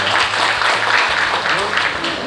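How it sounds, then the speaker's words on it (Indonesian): Audience applause at an evening event at Grahadi, a short burst of dense, steady clapping from a crowd, fairly loud and continuous with a low hum beneath. "Kita beri tepuk tangan dulu"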